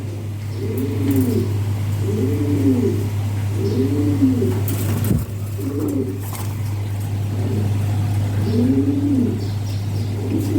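A breeding pair of Lahori Shirazi pigeons coos in a steady series of rolling, repeated calls, close and clear over a constant low electrical hum, with no talking.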